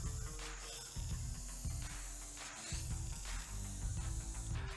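A spray paint can hisses in short bursts as dark paint goes over a silver mirror frame, faint and close, with pauses between sprays.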